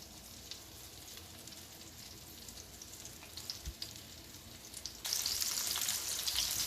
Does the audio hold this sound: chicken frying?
yes